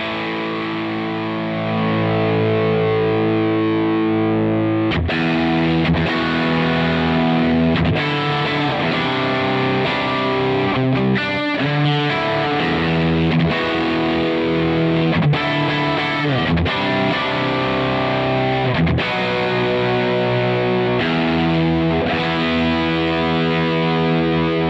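Electric guitar played through the drive channel of an Amplified Nation Wonderland Overdrive V2 amp with reverb on, a loud sustained overdriven tone of strummed chords and held notes with changes throughout, no voice.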